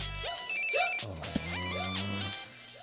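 A telephone ringing in a Hindi-dubbed film scene. A loud, close electronic ringtone with warbling tonal phrases and a sharp click partway through plays alone for about three seconds.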